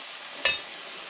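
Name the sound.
rabbit browning in marinade in a pan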